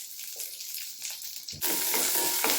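Small onions, green chilies and curry leaves fry in hot oil for a radish and peanut stir-fry, a soft sizzle jumping to a loud, steady, close crackle partway through.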